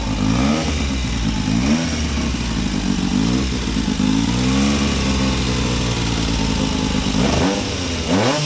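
A classic motorcycle engine revs loudly up close at a motorcycle show, rising and falling repeatedly in a throaty rumble without a break.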